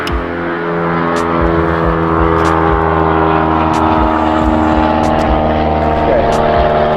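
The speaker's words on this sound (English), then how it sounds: "loud plane for such a little small." A loud, steady engine drone with a strong low hum fills the clip, like a small propeller plane passing close overhead, with faint voices beneath.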